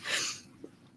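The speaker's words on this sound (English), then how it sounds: "setting off my hay fever, making me want to sneeze." A single short, breathy sneeze from a person with hay fever, close and fairly quiet, followed by a brief faint sound.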